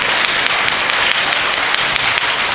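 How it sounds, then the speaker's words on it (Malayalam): Loud, dense congregation applause at a healing testimony service, a continuous patter of many hands clapping close by with no voices over it. "കൈയടിച്ചു കർത്താവിന് മാത്രം കൊടുക്കേ"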